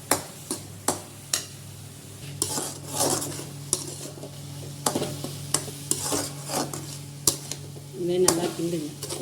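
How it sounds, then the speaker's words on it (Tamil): Spoon stirring a coconut burfi mixture in a pan, with repeated scraping clinks and knocks at an uneven rhythm over a low sizzle, close and moderately loud, with no talking. "நல்லா கிண்டுங்க."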